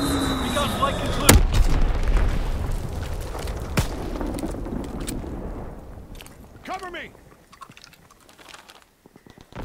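Division artillery firing in the World War II shooter Call of Duty WWII: two sharp, heavy booms a couple of seconds apart over dense battle noise, then a quieter stretch with a falling whistle and faint distant rumbles.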